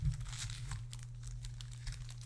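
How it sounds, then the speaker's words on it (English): Trading card packs shuffled by hand give a soft, continuous crinkling and rustling of foil wrappers close by, over a low steady hum. "Ooh, shuffling the packs."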